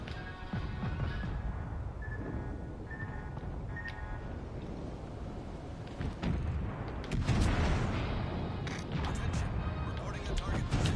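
Warship front gun turrets firing in a naval video game, with heavy booming blasts around the seven-second mark over a constant dense rumble of battle noise.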